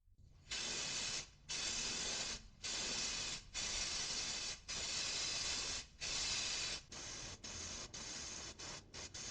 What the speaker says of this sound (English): now I'm going to apply the primer, and I'm going to apply 2 or 3 light coats of primer